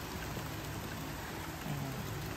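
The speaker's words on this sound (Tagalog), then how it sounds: "Super lakas ng ulan." Heavy rain pours down steadily, a dense, continuous hiss of drops hitting surfaces nearby with no pauses, loud and unbroken from start to finish.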